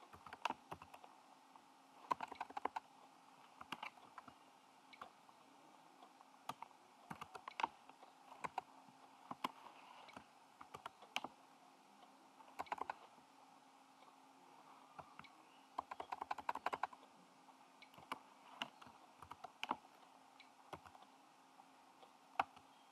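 Light tapping on a computer keyboard, close and fairly quiet, with irregular bursts of keystrokes and short pauses over a faint steady background hum.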